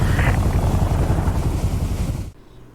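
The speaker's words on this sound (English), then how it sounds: "Jackson's chopper joins a fleet of other choppers hanging towards their destination." Military helicopters in Call of Duty Modern Warfare Remastered drone loudly in a steady close rotor roar, a fleet flying together, before the sound cuts off abruptly near the end.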